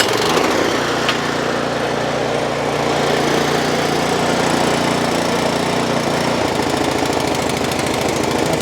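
A Cub Cadet snow blower engine, one that runs then dies and surges, roars at full power close by, a loud steady small-engine drone with rapid firing throughout and a slight shift in tone near the end.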